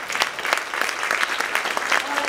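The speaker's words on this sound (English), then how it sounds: "sorry to cut off the clapping" An audience at an event claps in dense, continuous applause that stays fairly loud and even throughout, with scattered voices underneath.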